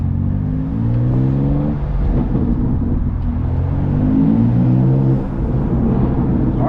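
A 2024 BMW M2 engine accelerates on the road, a loud, close, rising drone that climbs through the gears with steady revving and whirring, and no voices over it.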